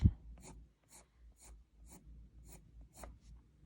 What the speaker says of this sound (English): And then I'd lift the pencil at the end to taper it off.